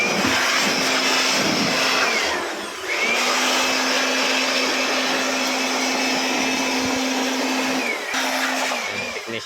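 Industrial blower running at an operator's work site, a loud continuous whine with a steady tonal hum that briefly dips and recovers twice, as if throttled or interrupted.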